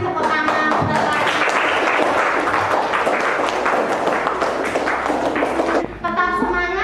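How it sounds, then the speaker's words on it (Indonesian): Children in a classroom clap together, a dense round of hands with some taps and thuds, voices mixing in, then a sudden break near the end followed by a voice. "terima kasih, tepuk tangan untuk lagi."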